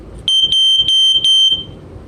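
A Sears 302.57475 smoke alarm with silencer gives five loud, piercing beeps at a steady rhythm, each short and shrill, with a faint hum between them.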